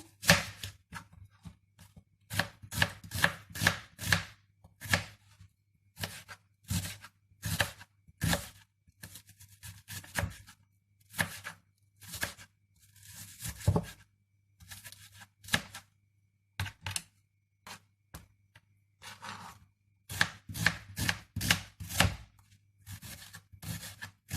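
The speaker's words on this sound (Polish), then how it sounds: "kroimy cebulkę drobno" A knife taps rapidly and steadily on a cutting board, finely chopping onion in bursts of quick chops, close and crisp, with short pauses between runs.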